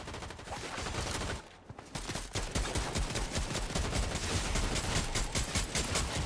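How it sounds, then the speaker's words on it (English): Rapid automatic gunfire in the Fortnite video game, dense bursts of shots crackling almost continuously and loudly after a short pause near the start. "He's firing at somebody"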